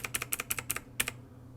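Arrow keys on a computer keyboard tapped in a quick run of about nine crisp clicks, close and clear over a faint hum, then a brief pause.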